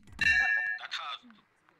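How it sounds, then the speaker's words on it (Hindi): A doorbell sounds once with a bright chiming clang, close and clear, its tone ringing briefly before fading. "देखो बेल बजी, मतलब सही कह रही हूँ।"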